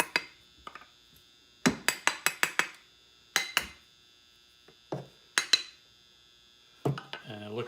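A metal pendant piece is hammered on an oval mandrel: sharp ringing metallic strikes come in quick bursts of three or four, separated by pauses, close and loud, with a brief murmur of talk near the end.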